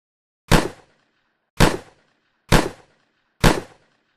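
Four loud, sharp shotgun blasts from a video game, evenly spaced about a second apart, each with a quick decaying tail and no talk.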